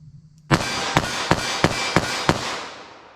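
.38 Special revolver fired rapidly, six sharp shots in quick succession over a wide, sustained wash of noise that tails off after the last round.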